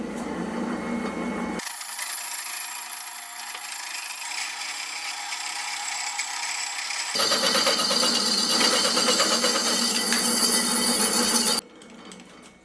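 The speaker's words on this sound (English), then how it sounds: "I'll then get a slitting saw mounted in the mill, and I'll use it to separate the 2 T-nuts" A slitting saw in a milling machine cuts apart two steel T-nuts. A steady, loud metallic whine and grinding continues throughout, harsher and denser toward the end, then stops abruptly and leaves a quieter machine hum.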